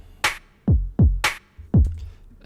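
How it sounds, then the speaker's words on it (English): A Cash snare 1 drum sample programmed in Ableton Live for UK garage drums, struck alone in a short pattern: sharp bright cracks alternating with deeper thumping hits, five hits in about two seconds, close and dry. "today we're going to be using the Cash snare"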